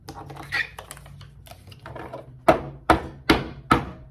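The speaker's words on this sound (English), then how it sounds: "I'm gonna shuffle these guys, but I just need to shuffle them while I explain this to you" Tarot cards being shuffled by hand, faint riffling and handling at first, then four sharp, regularly spaced slaps and riffles close by, each ending in a quick decay.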